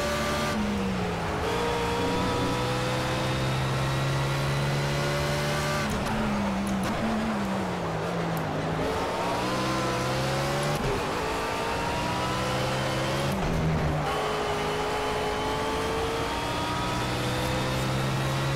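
A BMW Z4 GT3 race car in the Project CARS racing game at Hockenheim, its engine repeatedly climbing in pitch through the gears with sharp upshift drops, loud and continuous throughout.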